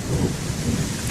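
Steady rain with a low thunder rumble beneath it, heard from inside a hot, stuffy room, constant and moderately loud, with a sharper burst at the very end.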